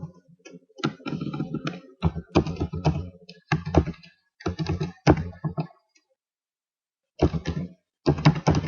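Computer keyboard keys tapped in quick bursts of clicks while entering a password for a school single sign-on login, close and clear, with brief pauses between runs of typing.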